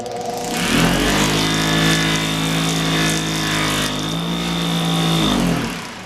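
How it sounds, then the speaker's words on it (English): A spinning polishing wheel for brass and motorcycle parts runs up with a rising motor whine, holds a steady loud hum with a faint tonal squeal as ordinary candle wax is pressed against it, then winds down. "what I do is I just have ordinary candle wax. I wax the wheel as step 1."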